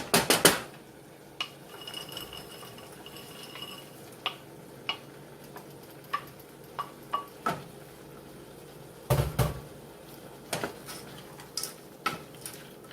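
A spoon stirs frozen corn in a metal pot, giving scattered sharp clinks and scrapes against the pot, close and moderately loud, with quiet gaps between the strikes.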